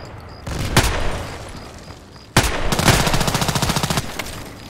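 Gunfire in the video game Contract Wars: two isolated sharp shots, then a loud rapid run of evenly spaced shots with a trailing echo.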